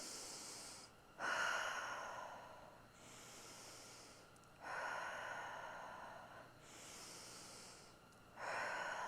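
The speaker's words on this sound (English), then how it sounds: "So 3 breaths in." Deep, slow breaths drawn in during a breath-hold exercise, three long inhalations with airy hiss, each followed by a pause, heard close and alone.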